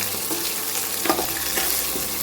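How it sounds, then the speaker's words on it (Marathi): Curry leaves fry with lentils in a hot pan while sambar is being made. The sizzle and crackle is dense and steady, with a couple of stirring scrapes close by, and no talking. "मी डाळी भाजताना निम्म्यामध्येच घालते, म्हणजे डाळीबरोबर चांगला खरपूस परतला जाईल तो कढीपत्ता."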